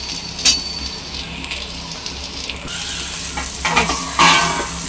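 Onions sizzle as they fry in oil, with fish oil in the same pan, a steady close hiss with stirring scrapes and occasional utensil clinks, growing louder toward the end.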